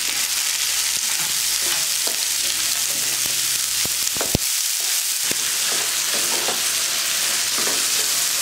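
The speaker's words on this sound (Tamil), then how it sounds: "தக்காளி நல்லா வதங்கிடுச்சு." Chopped tomatoes and mint sauté in a pan for chutney, giving a loud, continuous sizzle broken by sharp clicks and scrapes of a stirring spoon, with a short lull midway.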